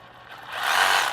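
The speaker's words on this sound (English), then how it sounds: "Turn it on, and you can use that variable speed trigger to control the speed to that 7/8 of an inch stroke" An 18V Ryobi One+ compact brushless one-handed reciprocating saw starts up and runs with a 7/8-inch stroke, rising quickly from a low whir to a loud, close, high-pitched buzz, with no talking.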